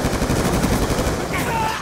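Rapid automatic fire from a Vector submachine gun in a video game, a dense continuous burst of shots, loud and close, lasting the whole moment.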